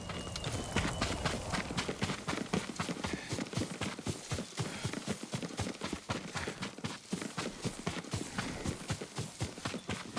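A horse's hooves clip-clopping in Ghost of Tsushima, a brisk, rhythmic run of sharp hoof strikes that continues steadily and close for about ten seconds, with no talking.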